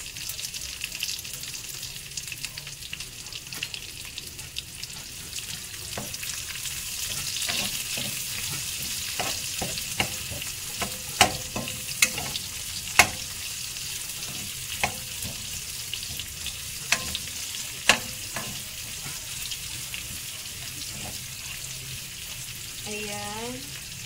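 Garlic and onion sauté in a pan for a Filipino caldereta-style dish, a steady sizzle with scattered sharp pops and crackles throughout, fairly close and unaccompanied by talk.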